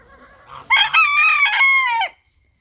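A rooster in a chicken coop gives one loud, close crow lasting about a second and a half, preceded by soft clucking from the hens.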